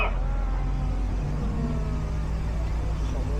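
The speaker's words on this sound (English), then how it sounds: "I got to rev up my engine to get up the hill" A car engine revs steadily to climb a hill, a loud, close, continuous drone with a constant low hum throughout.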